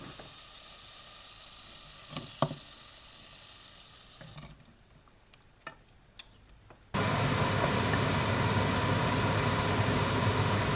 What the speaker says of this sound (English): I can hear that oil sizzling away there